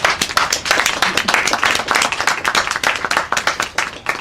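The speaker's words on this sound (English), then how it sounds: "Let us give the legacy of this museum a hand." An audience at a museum's Veterans Day program bursts into lively applause, a dense wash of many hands clapping close and loud, steady throughout with no break.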